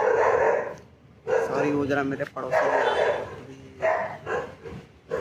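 The neighbour's dogs bark in repeated bursts close by, mixed in with someone talking over them.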